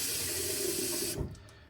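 Water sprays with a steady, loud hiss into the inside of an item being cleaned, then cuts off abruptly, leaving faint drips and trickling sounds.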